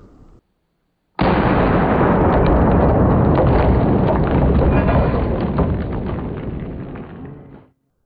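A Mare's Leg lever-action gun fires one-handed at point-blank range into a zombie head target: one loud, close blast that hits suddenly after a brief silence and rolls into a long roaring tail that fades over several seconds.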